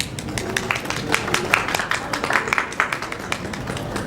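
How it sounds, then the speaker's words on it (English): An audience at a university paper presentation gives a round of applause for their teacher, sharp individual claps packed into a steady, moderately loud burst. "So a huge round of applause for him."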